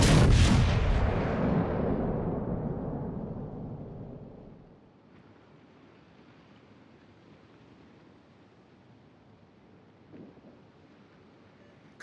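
Warship guns fire in a naval combat game with one huge, booming blast that rolls away over several seconds, then a low steady rumble and a faint second thud near the end.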